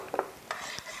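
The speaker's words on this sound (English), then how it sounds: "Now stir it properly" Sugar syrup for til laddu is stirred in a pot, a few soft scraping and clinking taps of a spoon against metal heard up close and quietly.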